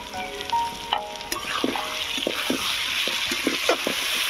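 Potatoes with peas and ground chilli, cumin and coriander sautéing in a pan, a soft steady sizzle broken by short clinks and scrapes from stirring, close and moderately loud with no talking.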